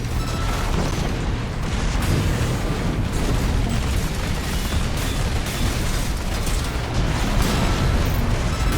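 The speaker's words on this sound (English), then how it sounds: "Fire the javelin about here." A javelin weapon fired in a mech combat video game lets out a loud, dense, continuous roar of blasts and rumbling explosions that fills the whole stretch without a break.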